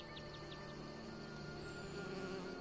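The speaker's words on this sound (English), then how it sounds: "And I still hear more bees." Bees buzz in the video game Skyrim, a soft steady insect drone with faint overlapping hums and a few quick chirps above, quiet and continuous without speech.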